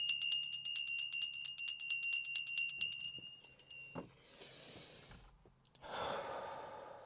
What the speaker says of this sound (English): Before we get started, I'm going to ring this bell.